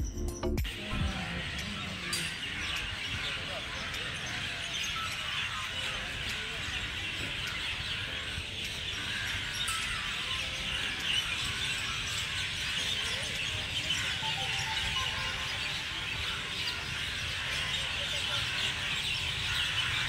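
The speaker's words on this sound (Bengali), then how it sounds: "এখানে পাখিদের ডাকটা শুনুন।" Birds call and chirp at dusk beside the Ganges near Belur Math, scattered faint calls over a steady outdoor hiss and wash of ambient noise, with a little distant human sound in the background.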